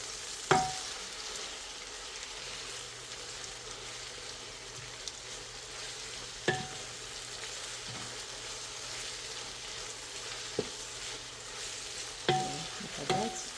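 Onions sizzling in hot oil in a pan for chicken biryani, a soft, steady frying hiss broken by a few sharp clinks and scrapes as a utensil stirs, with no talking.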